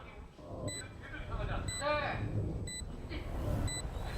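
The Valorant alarm bot gadget beeping in a competitive match: regular high electronic beeps, about once per second, sound under a caster's excited commentary and game noise.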